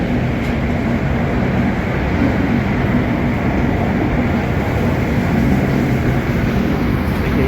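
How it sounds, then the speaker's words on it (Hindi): The Nagpur Duranto Express pulls out of Chhatrapati Shivaji Terminus, heard from on board as a loud, steady rumble and roar of the moving train that carries on unbroken throughout. "चलिए निकलती है, निकल गई ट्रेन।"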